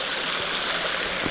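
A river flowing through a forest, heard as a steady, even rush of water with no voices.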